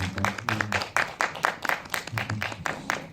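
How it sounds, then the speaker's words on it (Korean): A small indoor audience claps for an actress at a Korean independent film talk event, with steady scattered handclaps for a few seconds and no talking over them. "저도 우리 안소희 배우님을 향해 응원의 박수를 한번 부탁드려도 될까요?"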